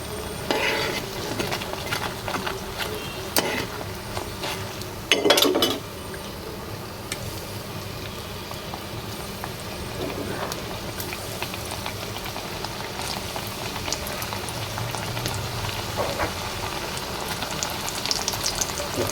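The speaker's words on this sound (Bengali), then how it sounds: "এগুলো ভাজা হতে থাকে" Pitha snacks made from flour and boiled potato deep-fry in oil, giving a long, steady bubbling sizzle with intermittent stirring and utensil knocks.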